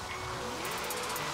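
Tire squeal from a Nissan 370Z drifting in Forza Horizon 3, a steady high-pitched screech carried over continuous engine noise, moderately loud and close, with no talk.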